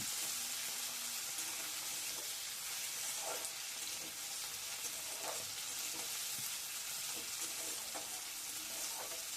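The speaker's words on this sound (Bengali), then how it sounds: "টমেটো আর পেঁয়াজ একসাথে একটু নাড়াচাড়া করে নেব।" Salted chopped tomato and onion frying together in a pan, a loud continuous close sizzle with soft scraping stirs now and then, no voices.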